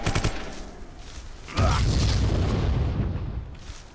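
Pistol fire in the video game Vivisector: a quick run of sharp shots at the start, then a heavy booming blast that rolls on and fades over the next couple of seconds, with no speech.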